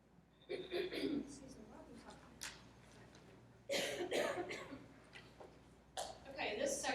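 Coughing from a person during a presentation, several rough bursts spread across a few seconds with quieter room tone between them.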